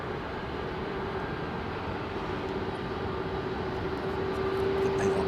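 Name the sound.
airliner jet engines, likely Pratt & Whitney, at Heathrow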